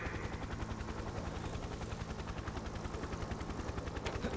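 Helicopter rotor thudding in a steady rapid pulse with bursts of gunfire from a Nintendo action video game, loud and continuous with no talking.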